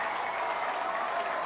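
A baseball crowd at a Reading Fightin Phils minor-league game applauds and cheers on its feet, a dense, steady wash of clapping that holds evenly throughout without a break.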